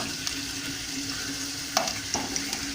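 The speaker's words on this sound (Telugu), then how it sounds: "ఆనియన్స్ దోరగా వేయించుకోవాలి." Onions frying in a pan for mutton haleem give a steady, close hiss of sizzling oil, broken near the end by a couple of sharp clicks from a spoon stirring.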